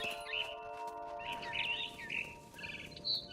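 Bright bird chirps and tweets repeat over a steady tonal background hum, several short calls scattered across the stretch at moderate loudness, from a bird in the video game What Remains of Edith Finch.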